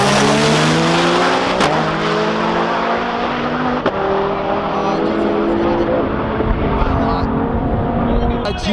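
Drag race cars, including a Nissan GT-R, accelerating hard at the TX2K22 drag event, a loud continuous engine roar with rising gear pulls and shifts, heard from the crowd with no clear talk over it.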